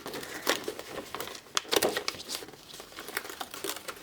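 Cut paper peeled slowly off a Brother ScanNCut cutting mat, giving a steady stream of soft crinkles and sticky tearing crackles, close up and fairly quiet, with no talking.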